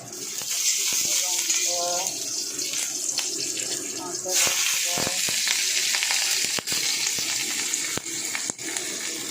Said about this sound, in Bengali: 1 চামচ কড়াইতে 1 চামচ তেল দিয়ে দিলাম। এরপর একটু লঙ্কা দিয়ে দেবো